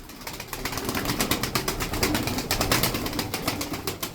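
A loft of around thirty Tokat tumbler pigeons gives off steady, rapid wing-flapping, a dense near flutter that pulses in quick beats throughout, with soft coos underneath.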